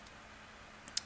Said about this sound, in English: Let me click on it.